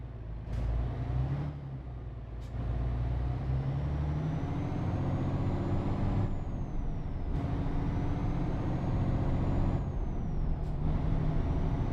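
A truck in Euro Truck Simulator 2 sits with its engine running steadily as the parking brake releases with short air hisses, repeated sharp air bursts over a constant low diesel drone.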